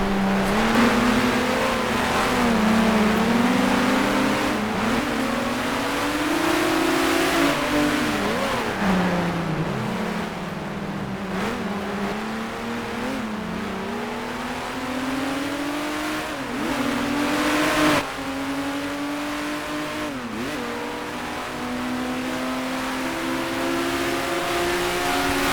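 A 1971 sportscar engine from Grand Prix Legends roars steadily throughout, pitch climbing and dropping through gear changes and lifts, loud and continuous with no talk.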